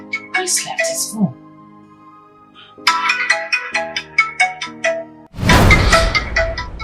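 A mobile phone left behind plays its melodic ringtone, a bright tinkling tune that repeats in bursts and then gives way to a louder, harsher electronic ring at the end.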